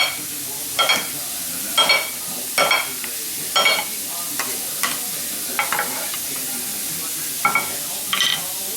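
Salt- and olive-oil-dressed tomato and peach salad tossed in a bowl, giving several short, close rustling swishes at irregular intervals over a quiet background.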